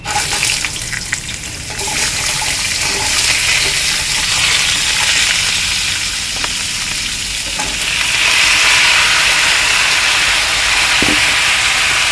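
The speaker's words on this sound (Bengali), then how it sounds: "এবার আমি আনাজগুলো দিয়ে দেবো।" Vegetables tipped into a hot pan of oil tempered with cumin seeds, giving a loud, steady frying sizzle with a hissing rush that swells near the end, close by and with no voices.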